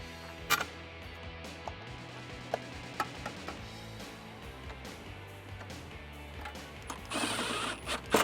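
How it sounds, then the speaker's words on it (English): A hand ratchet with a Phillips head socket and extension turns screws on a 2019 RAM 1500 during a cold air intake install, giving quiet, rapid clicking pawl sounds with a few sharper knocks. "I'm gonna use my Phillips head socket and that extension just to put them in a couple of threads"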